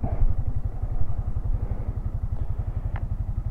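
Borrowed motorcycle idling nearby, a steady low rapid putter with even pulses and a faint click partway through, no voices.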